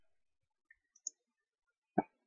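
A few faint, sharp computer mouse clicks sound in near silence, spaced irregularly, ending with one louder click.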